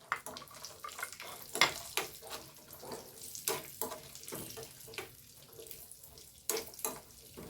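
Cashews sizzle and crackle as they fry in ghee for an Onam fruit payasam, a steady frying hiss with irregular louder pops, close by and with no talking.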